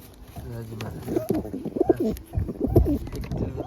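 Pigeons coo close by in a low, throaty, repeated rumble, with a person talking over them.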